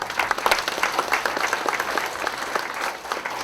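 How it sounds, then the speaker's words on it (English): Dense, steady audience applause fills a formal gathering in KwaZulu-Natal honouring government representatives, many hands clapping at once, close and loud throughout with no talk. "Can you give them a round of applause?"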